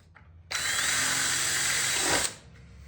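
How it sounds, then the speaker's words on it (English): A power drill drills out metal tabs for a heater box on a 1979 Pontiac Firebird, whining loudly and steadily for about two seconds before winding down, with quiet room noise around it. "Just got done drilling the tabs out."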